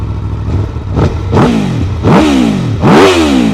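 An Aprilia Tuono V4 motorcycle on its stock exhaust revs up close in three or four rising, loudening blips, each swelling and falling back to idle, with no talk over it.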